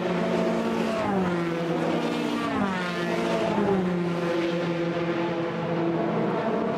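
Formula 3 race cars in the FIA European Championship scream past the pits, several high-pitched engines overlapping with rising and falling whines as they go by, loud and continuous.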